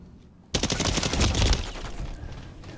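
Automatic gunfire in the video game Modern Warfare III bursts in abruptly after a quiet moment, a loud rapid stream of shots that gradually tails off slightly.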